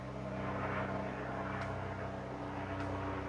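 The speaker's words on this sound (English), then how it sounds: "Another helicopter." A helicopter flying overhead, its steady, loud rotor and engine drone filling the whole stretch with a low pulsing rumble, heard indoors through walls with no talk.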